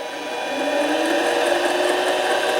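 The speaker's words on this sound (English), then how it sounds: "Decided to put it in the lathe." Metal lathe turning a rusty plumb bob wrapped in a paper towel, giving a steady whirring machine drone with a bright hiss, rising slightly at the start and then holding constant.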